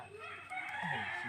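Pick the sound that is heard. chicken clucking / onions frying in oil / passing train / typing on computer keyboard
chicken clucking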